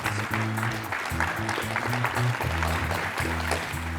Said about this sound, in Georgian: აპლოდისმენტები კიდევ ერთხელ პიკნიკი მტკვრის